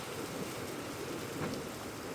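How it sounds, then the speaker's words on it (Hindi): Steady rain falling during a thunderstorm in Rajasthan, a dense continuous hiss with a low rumbling undertone, loud and unbroken with no voices. "कई जिलों में मेघ गर्जन के साथ भी बारिश हो रही है"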